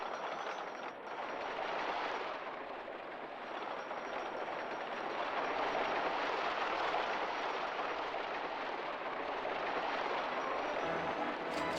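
A wooden roller coaster test ride in RollerCoaster Tycoon rumbles along its track in a steady, train-like roar that swells slightly as it runs, with no voices.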